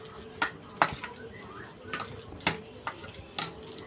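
Chicken is mixed by hand with flour and oil in a bowl for chilli chicken, producing a series of irregular wet squelches and light knocks against the dish, close and moderately loud.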